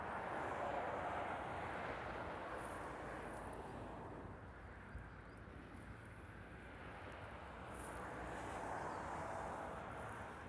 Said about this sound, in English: We have another Hawaiian 330. It's coming in from Los Angeles.